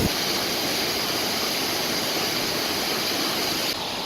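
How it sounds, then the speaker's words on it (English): A waterfall on a creek in Oregon roars as a constant broad rush of falling water, loud and close, steady throughout with no voices. "Another amazing waterfall."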